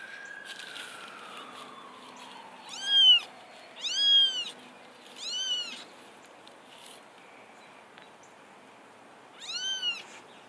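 A young kitten meows four times in a spaced series of close, high, rising-falling cries, with a pause before the last, over a quiet room background.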